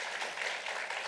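Audience applause follows a reading on a show, heard as a short, faint wash of steady, dense clapping.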